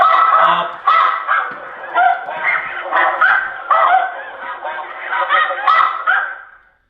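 Snow goose calls played through a homemade electronic hunting caller, a dense, continuous chorus of nasal honks and yelps that overlap in quick bursts for several seconds, loud and close, then cut off abruptly.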